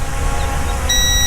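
Potensic D68 GPS 4K FHD 5G WiFi FPV drone giving a steady, high-pitched electronic beep that begins near the end, over a loud, continuous low rumble.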